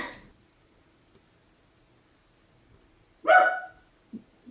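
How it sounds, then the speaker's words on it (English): A dog gives one loud bark near the microphone after a long quiet stretch, followed by a couple of shorter, softer yips, with faint insect-like chirping in the background. "He's been barking for like a half hour."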